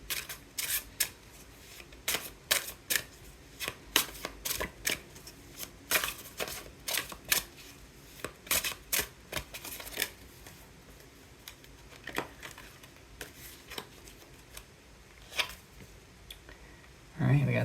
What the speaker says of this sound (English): I'm going to draw 2 cards from the Thoth tarot deck here.